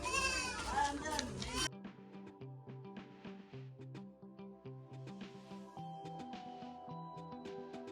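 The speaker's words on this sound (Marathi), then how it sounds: "बकरी चालल्यात बंदरावर" Goats walking at a harbor bleat briefly at the start over a voice, then lively music with a steady beat takes over.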